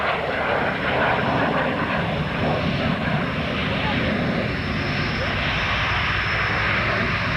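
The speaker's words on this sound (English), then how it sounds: "There's the whisper pass" A VIP transport jet makes a quiet whisper pass at the 1993 Chatham Ontario Kinsmen Airshow. Its low, steady engine rumble and rushing air hold evenly at close range throughout.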